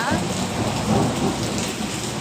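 Steady rain pours down outdoors during a windy thunderstorm, a dense continuous hiss of drops hitting surfaces, close and constant with no talking.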